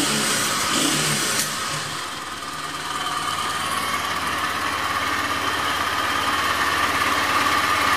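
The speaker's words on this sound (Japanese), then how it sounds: "それでは吹かしてみます。" A stock 2014 Kawasaki W800 motorcycle engine runs steadily close by, a continuous broadband mechanical drone with a brief throttle blip early on, heard alone without voices.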